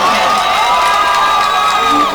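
An audience at a mushaira poetry gathering bursts into loud applause mixed with cheers and whoops, close and sustained, with a tonal voice or instrument ringing over the crowd.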